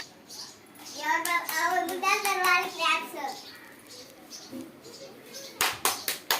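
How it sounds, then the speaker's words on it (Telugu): Children in a school activity session clap their hands, a few sharp claps near the end following a stretch of kids' chatter and a teacher's voice. "క్లాప్స్ కొట్టండి"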